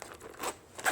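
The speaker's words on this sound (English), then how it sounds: "Zipper's busted." A quick pull on a broken zipper with a scratchy, rasping texture, two short bursts close by, the second slightly louder.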